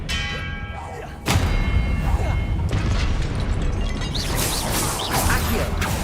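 A spell cast in the Hogwarts Legacy video game lands as a sudden loud boom and thud with a swooshing burst, followed by sustained magical rumble and shimmering effects throughout.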